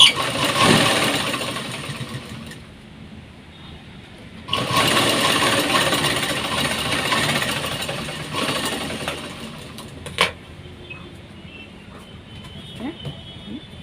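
A sewing machine stitching the back strip of a blouse runs in a steady whirring drone, stopping and restarting in sections, close and fairly loud, with faint room sounds in the gaps.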